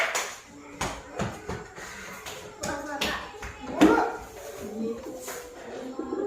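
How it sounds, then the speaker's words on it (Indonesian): Students in a school classroom clap their hands in a few separate bursts that rise above background chatter and children's voices, the claps uneven and moderately close. "Tepuk tangan semua."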